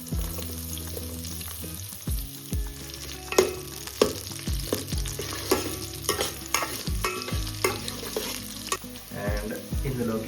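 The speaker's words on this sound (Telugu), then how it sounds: "ఆయిల్ వేడి అవుతుంది, అందులో మనం ఈ స్పైసెస్ అన్నీ వేసేయాలి. ఆనియన్స్ వేసేసుకోవాలి." Spices and onions fry in hot oil in a cooker for a bachelor-style chicken curry, a continuous close sizzle punctuated by scraping stirs and clanks of a spoon against the pot, with no talking.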